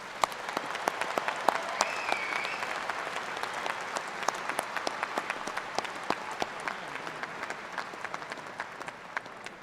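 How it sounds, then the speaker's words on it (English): Sustained crowd applause at a 2017 University of Delaware undergraduate commencement honors graduates' families and friends, many hands clapping steadily with sharp individual claps standing out, moderately distant in a large venue. "Let's give the family and friends one more round of applause."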